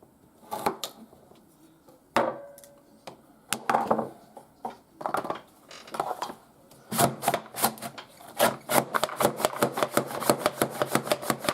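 A handheld vegetable slicer swiping through vegetables, at first in sparse sharp strokes and scrapes, then in a fast, regular run of crisp close slicing clicks toward the end.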